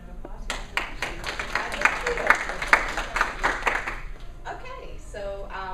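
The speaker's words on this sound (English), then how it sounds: "Please give a round of applause." Audience applause at a grant-writing workshop, a scattered burst of clapping from a modest group that builds and then thins out, with voices briefly heard as it fades.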